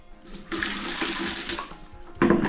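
Water pours steadily into a bucket for mixing tile grout, a bright splashing rush for about two seconds, then a louder final gush.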